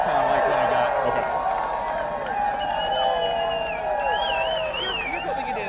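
Crowd at an outdoor rally by Democrats outside a state legislature, with loud continuous cheering, whoops and scattered clapping washing together into a dense roar close by, voices shouting over it.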